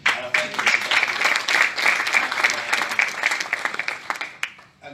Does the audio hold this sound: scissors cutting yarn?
no